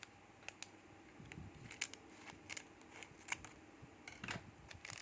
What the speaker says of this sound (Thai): มันก็จะเป็นซองแพ็คคู่นะคะ นี่ เราก็จะมาตัดกันเลยนะคะทุกคน